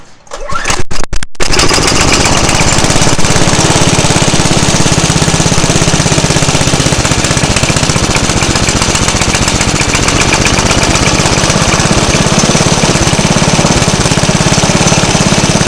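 A small engine with a diaphragm carburetor sputters briefly, then catches and runs loud and steady at high speed with a harsh, rapid buzzing rattle that holds for the rest of the clip.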